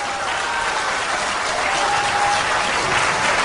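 Steady, dense crowd applause at a party convention eve gathering as candidates are called forward, loud and continuous without talk.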